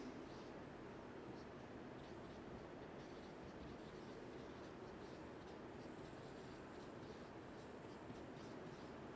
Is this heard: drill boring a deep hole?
no